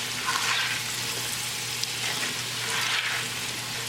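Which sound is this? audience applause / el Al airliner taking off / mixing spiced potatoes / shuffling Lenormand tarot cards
mixing spiced potatoes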